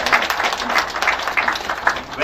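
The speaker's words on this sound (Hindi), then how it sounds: "आपकी तालियों के बीच" An audience at a club members' meet applauds as a new member receives a joining kit, steady clapping filling the short moment at moderate loudness with a voice talking over it.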